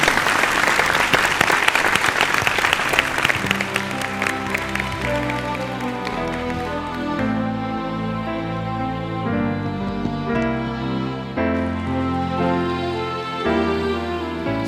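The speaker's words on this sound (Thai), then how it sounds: "ขอเสียงปรบมือ" Studio audience applause for an eliminated contestant on a Thai TV singing competition, loud for the first few seconds before sustained music with steady tones takes over and the clapping fades beneath it.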